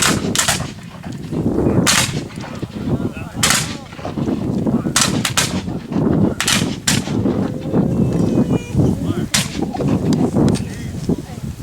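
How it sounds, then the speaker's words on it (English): Civil War reenactors fire muskets by file, a ragged series of loud, sharp cracks spaced irregularly about a second apart, with shouted commands and crowd voices underneath in an open outdoor setting. "Firing by file! Commence firing! Once again, firing by file."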